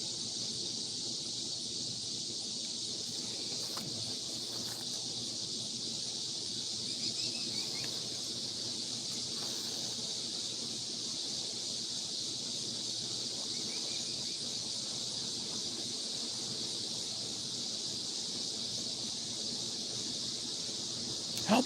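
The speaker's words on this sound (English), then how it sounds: "Listening to the cicadas." Cicadas sing in trees with a steady, high shrill drone that holds unbroken throughout, against faint outdoor background with occasional light rustles.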